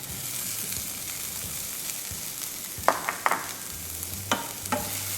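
Chopped tomatoes sauté in a pan with a steady soft sizzle, broken by a few sharp clicks of stirring, quiet and close with no voices.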